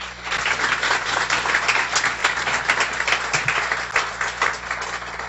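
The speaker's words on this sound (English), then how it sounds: "A warm round of applause for Peggy." A guide dog school graduation audience gives a warm, moderately loud round of applause, scattered individual claps merging into a steady pattering wash.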